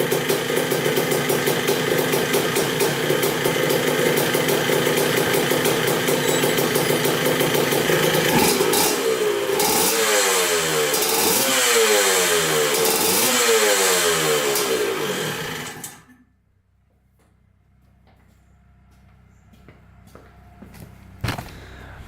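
Suzuki RM 125 two-stroke dirt bike engine running loud and close, climbing through several sharp revs up and down before cutting out abruptly, leaving near silence with faint handling noises.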